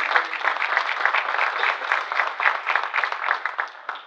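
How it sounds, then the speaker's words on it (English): Audience applause for a team at a Zimbabwe economic update presentation, steady and fairly close, a room of hands clapping continuously for several seconds with no talk over it. "give them a big round of applause"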